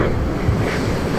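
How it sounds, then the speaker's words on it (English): Ocean surf rolling and breaking steadily with surfers riding the waves offshore, a continuous loud wash of water and wind rumble filling the scene with no pauses. "Wicked waves."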